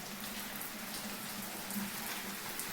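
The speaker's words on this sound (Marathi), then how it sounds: "कसला जोरात पाऊस चालू आहे" Heavy rain pours down in a dense, even hiss, steady and fairly soft throughout with no voices.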